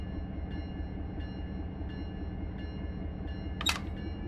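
BNSF 8523 freight train in the Run 8 simulator starting to roll out of a departure track: a steady low diesel rumble with regular faint clicks about every 0.7 seconds and one brief sharp hiss near the end.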